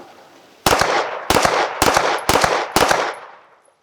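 Five handgun shots fired at an outdoor shooting range in steady rhythm, each a loud sharp crack with a short ringing tail, close to the listener and free of talk.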